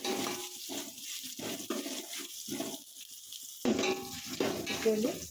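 Mustard-seed and pepper-powder tempering sizzles and fries in a pan for pongal, with repeated stirring scrapes, a steady crackle that grows louder near the end, and no talk.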